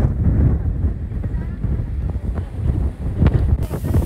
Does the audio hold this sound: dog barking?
no